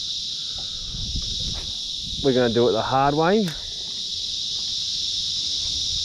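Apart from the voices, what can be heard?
cicadas loudly buzzing outdoors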